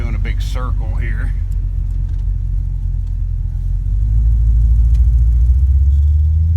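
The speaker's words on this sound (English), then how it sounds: "I swear it sounds like a Mustang." Chevy S10 Blazer with a 5.3 engine and T-5 manual transmission driving in a circle: a low, steady engine rumble that swells louder partway through, with someone talking over the start.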